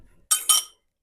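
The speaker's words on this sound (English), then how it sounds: "I'm just gonna pop this in the oven" A muffin pan set into an oven: two quick metallic clinks and scrapes in close succession, close and fairly loud, followed by silence.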